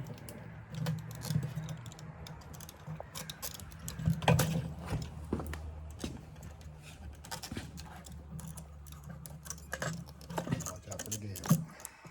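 A fuel pump retaining ring is worked loose on a Yamaha Kodiak or Grizzly 450 ATV, with close metallic scraping, clicks and tool taps continuing throughout under a steady low hum and occasional speech.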